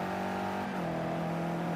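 A BMW Z4 GT3 race car engine in the racing game Project Cars at Watkins Glen gives a loud, steady, buzzing drone. Its pitch drops slightly partway through, then holds, with no voices.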